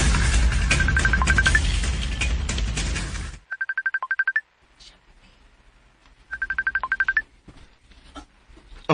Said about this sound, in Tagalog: Oh, ang ako cellphone.